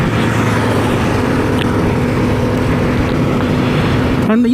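A Vespa scooter's small engine and CVT transmission drone steadily while riding, loud and constant, with road and wind rush all around, until the pitch rises at the end.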